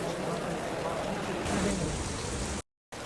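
Rain pours on a street by the Bangladesh Bank offices, a dense, steady, close hiss that briefly cuts out near the end.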